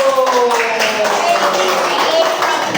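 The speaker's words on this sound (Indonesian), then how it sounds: "tepuk tangan untuk kelompok 1" A short burst of hand clapping from a small group of students, with voices and chatter mixed in over it.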